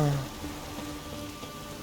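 Steady rain in The Witcher 3 video game patters across a surface with a constant, even hiss, a low tone fading at the start and no break in the downpour.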